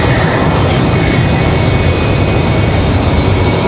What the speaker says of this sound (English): Hey, and we got a 717 for Delta Airlines.